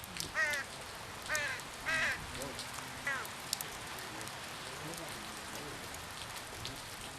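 Steady rain falls on surfaces during the mountain rainy season, a soft continuous patter, with a few crow caws standing out early and one sharp tap partway through.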